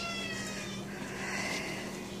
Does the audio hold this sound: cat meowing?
yes